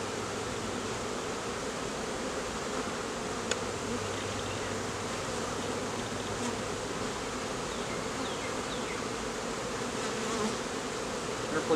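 A swarm of bees buzzes steadily and densely as frames are moved into a new hive, a continuous close drone with no pauses.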